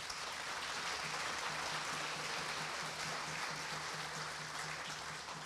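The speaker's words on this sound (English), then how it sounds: "We'll clap for each group" A gathering clapping for each group at a Sukkot 2020 event makes a dense, continuous wash of many hands that holds steady for over five seconds, with a faint low hum running beneath it.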